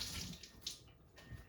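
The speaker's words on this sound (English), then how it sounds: "So I'm going to wash my hands just a bit" Running tap water in a home kitchen as hands are washed, a close, steady splashing stream with small surges and breaks over a second and a half.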